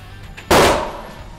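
One loud, close blast from an RIA BBR 3.10 shotgun at a shooting range, an abrupt crack with a decaying tail and no voices.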